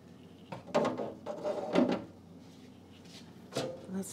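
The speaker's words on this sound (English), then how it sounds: "And we're gonna open the lid." A food dehydrator's lid is opened after a day of drying banana chips: a few close, hollow plastic clunks and knocks, with a rattle and a final thump near the end.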